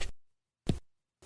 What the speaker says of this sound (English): That's not paper. It's the sound of the new Remarkable Paper Pro